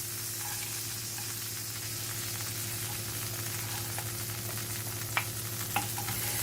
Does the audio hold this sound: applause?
no